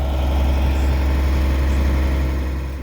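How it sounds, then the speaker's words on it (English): A dump truck loaded with road base idles and rumbles on arrival at a farm site, a steady loud low engine drone with vibration that continues without break and eases slightly at the end. "The dump truck now arrives to dump some road base."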